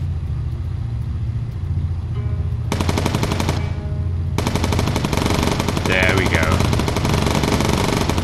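Sustained machine gun fire from a World War II bomber's turrets in Bomber Crew, dense rapid rattling in long loud bursts over a droning engine rumble, with someone talking over it.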